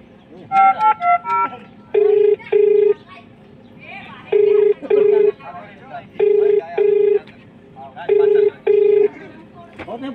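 An electronic phone ring sounds in repeated paired bursts, ringing on and on unanswered, with a few short spoken remarks near the start.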